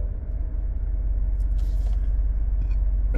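A ShockFlo portable mini air compressor runs with a steady, loud mechanical hum and buzz, close and continuous, with a brief hiss partway through.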